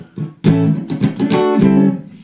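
A short electric guitar phrase played on an Ibanez Roadstar II RS135 middle pickup through an amp, clean and warm with ringing notes and quick picked attacks.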